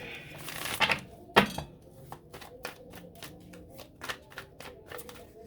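A tarot deck is shuffled up close: two sharp riffling bursts, then a quick run of crisp snapping card flicks in an uneven rhythm.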